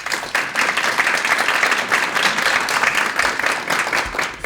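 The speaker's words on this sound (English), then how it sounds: "can we give them a round of applause?" Audience at a business lunch applauds, a dense and steady burst of many hands clapping close by, loud and sustained throughout.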